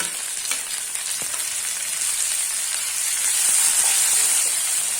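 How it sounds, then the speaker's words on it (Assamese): A spice mixture with chopped tomatoes fries in a pan for dahi mushroom gravy, giving a loud, even, hissing sizzle that swells slightly toward the end, close up and free of talk. "তেতিয়ালৈকে এই গোটেই মিশ্ৰণখিনি অলপ সময় ভাজি ল'ব লাগিব"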